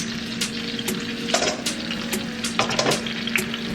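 Big steaks sear in a pot with a constant crackling sizzle. Scattered sharp pops and utensil clicks sit on top of a faint steady hum, and there is no speech.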